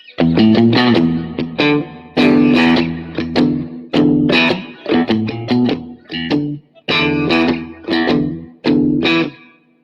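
An electric guitar plays a percussive riff of hard-attacked notes and double stops through a VOX amp with spring reverb and effects, loud and close in choppy bursts separated by short gaps.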